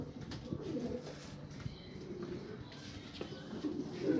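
Pigeons coo in soft, low, throaty rolls, several birds close by on a balcony, continuing steadily over a light background of shuffling and faint noise.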